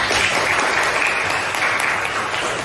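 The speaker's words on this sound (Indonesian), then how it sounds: "Tepuk tangan untuk kita" A room full of people clapping together at a coaching session, dense and steady applause from start to finish, fairly close.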